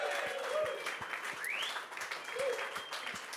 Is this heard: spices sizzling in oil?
no